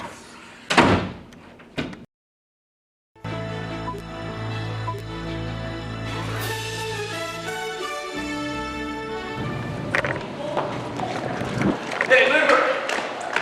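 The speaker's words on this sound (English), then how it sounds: "Let me get the door for you." A door swings open and shuts with a loud thud near the start, followed by a quiet pause, then a room tone hum and muffled voices talking as people greet each other.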